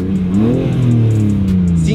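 A 2022 BMW M4 Competition idling and blipping in Sport Plus mode with its exhaust valves partly open, a steady close exhaust drone that swells and eases over two seconds while someone talks over it.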